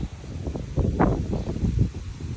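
Strong, gusty wind blows outdoors beside a temple wall in Udon Thani, Thailand, as a steady rushing roar with low buffeting rumbles and surges over about two seconds.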